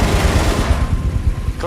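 An aircraft machine gun fires a short, rapid burst during a Dunkirk dogfight scene, loud and close with a dense low rattle over engine roar, then trailing off near the end.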